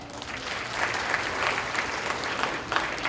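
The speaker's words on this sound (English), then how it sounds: "Give her a hand clap." An audience applauding at the 2023 Haitian Community Partners gala in Boston: a few seconds of steady, fairly close crowd clapping with no break.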